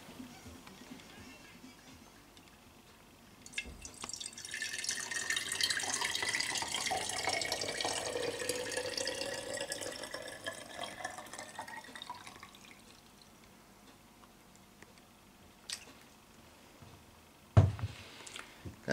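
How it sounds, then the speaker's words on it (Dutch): Tap water pouring into a container to grow sweet potatoes, a steady, moderately faint stream running for several seconds that shifts in tone as it fills, then stops, followed by a few clunks. "Water gaan wij gewoon vullen."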